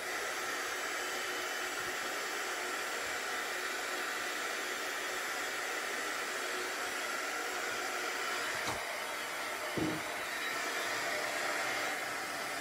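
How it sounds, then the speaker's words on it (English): A heat gun for embossing powder runs as a steady, loud airy whoosh throughout, with a couple of brief knocks near the end. "So I'm just going to come in with my heat gun."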